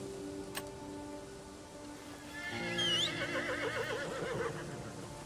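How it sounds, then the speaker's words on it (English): A horse whinnies loudly in the Crimson Desert video game, one long wavering neigh rising and then falling, layered over a steady low background hum with no talking. "That is not my horse."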